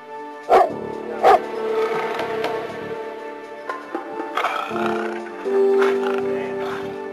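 A dog barks on a film set during a staged standoff with a black panther, two sharp barks near the start followed by whines and yelps, with speech and a steady tonal background running underneath.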